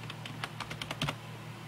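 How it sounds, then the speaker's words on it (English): Quick run of crisp keystrokes on a computer keyboard while entering an image name and size in design software; about half a dozen close, light clicks in an uneven burst, then quiet. "Just type whatever you want."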